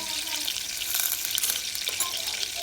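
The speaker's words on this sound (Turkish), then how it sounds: "yağımız eriyor." Butter sizzles and crackles steadily in a hot pan for a meat kebab with béchamel sauce, a dense, continuous frying hiss with small pops and no voices.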